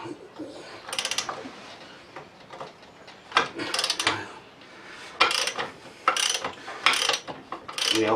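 A small socket ratchet clicks in quick bursts while a bolt on a minimoto bobber frame is tightened, the close repeated clicking returning several times between brief pauses.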